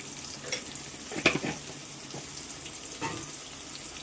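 Chopped onion with a pinch of salt frying in a pan for a chicken gravy, a continuous close sizzle with a few louder crackles and spatula scrapes, no talking.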